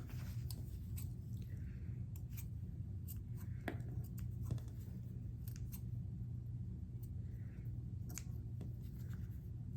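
Scissors cut apart sewn fabric pieces at close range, with repeated crisp snips and soft fabric rustles over a low steady background hum, with no talking.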